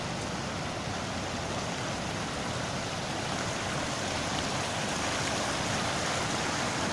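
The Aygır waterfall at Bozkır in Konya pours with a steady, dense, even roar that stays loud and unbroken the whole time, with no voices.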